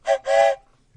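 A trophy shaped like a whistle gets blown in two bursts, first a short toot and then a longer, breathy, train-like shriek, close and loud before it drops to silence.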